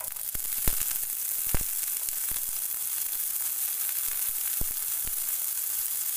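Chopped garlic and ginger frying with onions in a pan give a steady, close hiss and crackle throughout, broken by a few sharp clicks of a utensil.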